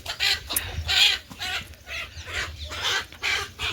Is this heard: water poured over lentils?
no